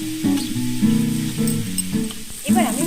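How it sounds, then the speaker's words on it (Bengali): Spice paste for a fish curry with kohlrabi sizzles and spits in a hot pan, loud and close, with bursts of hissing that come and go as it is stirred. "এবার ভালো করে মশলাটা আমি এবার কষিয়ে নেব, যাতে কাঁচা মশলার গন্ধটা ছেড়ে যায়"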